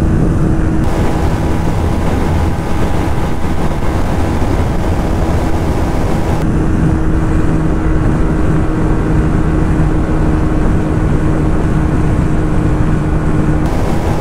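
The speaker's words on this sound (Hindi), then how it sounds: "तो अपनी बाइक चल रही है अभी" A TVS Apache 160 2V motorcycle runs flat out in a drag race, its engine drone steady and loud with a constant tonal hum and wind rush throughout, no voices over it.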